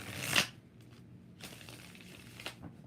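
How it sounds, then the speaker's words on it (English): Tarot cards being shuffled by hand, with a sharp riffling burst near the start followed by softer scattered card rustles and a final quick flutter, close and fairly quiet with no talk. "4 shuffles for Linksy."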